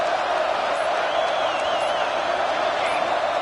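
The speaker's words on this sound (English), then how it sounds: "Crowd getting this defense whipped up on third down." A dense, steady roar of a large stadium crowd cheering on third down at an American football game, loud and sustained throughout with a few whistles rising above the noise.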